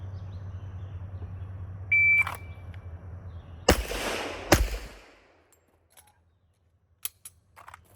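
Two sharp pistol shots ring out close and loud less than a second apart during a timed shooting drill, followed by near silence broken by a few faint clicks.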